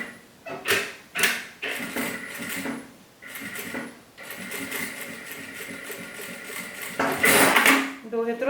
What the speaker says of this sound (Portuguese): E agora eu vou continuar costurando.